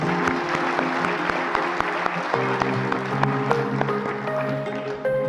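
Audience applause at the close of a CSC Aadhaar training session, a steady dense patter of many hands clapping throughout with faint background tones and no talk.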